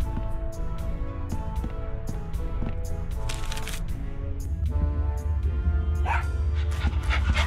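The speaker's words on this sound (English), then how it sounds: "Oh, such a cute little dog." A small cartoon dog barks in the pirate adventure game Tales of Monkey Island, several sharp yips over a steady layer of game music and ambience.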